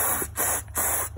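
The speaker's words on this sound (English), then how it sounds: "I'm gonna spray this stuff and hopefully flush them out" An aerosol can of insect spray fires at a fly infestation in two long hissing bursts, close and steady, with a short pause between them.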